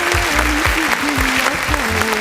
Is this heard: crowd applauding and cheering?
yes